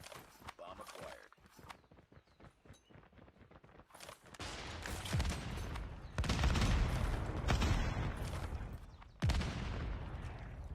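Call of Duty Mobile gunfire during a competitive esports match: sporadic single shots at first, then heavy sustained volleys and explosive bursts, with faint voices in places.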